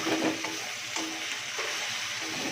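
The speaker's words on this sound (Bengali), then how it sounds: "দেখো, পেঁয়াজটা মোটামুটি ভাজা হয়ে গেছে" Onions frying in a pan for a prawn curry in yogurt, giving a steady, quiet sizzling hiss with a few soft stirring touches and no talking.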